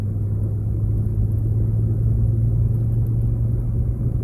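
A 2003 Pontiac Grand Am's 3.8 V6 engine hums steadily from inside the cabin while driving, a low constant rumble with no revving, continuous throughout.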